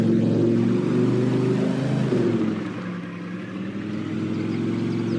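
Car engine in Farming Simulator 22, driven on asphalt, a steady loud motor drone with harmonic whine that dips briefly midway then resumes, no talk.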